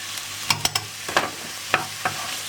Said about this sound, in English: As soon as your pan is ready, you insert the onions into the pan. Hey, listen to that sound.